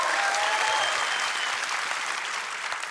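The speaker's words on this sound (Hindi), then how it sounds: "यहाँ पे आप हंसी के ठहाके लगाते हैं, तालियों की गड़गड़ाहट होती है।" A studio audience at The Kapil Sharma Show, a televised comedy show, claps in dense, steady applause that fills the whole stretch at a loud, even level.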